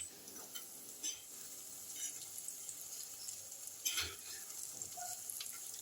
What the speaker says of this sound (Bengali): আস্তে আস্তে করে আমি সমস্ত পিঠেগুলো ভেজে নিচ্ছি।